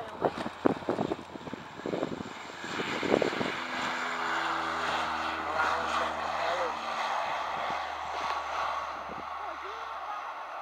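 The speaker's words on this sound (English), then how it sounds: "This flight that's about to take off is an unknown flight." A private aircraft takes off at Doncaster Robin Hood Airport, its steady engine drone rising and holding loud and close, with gusts of wind buffeting the microphone at the start.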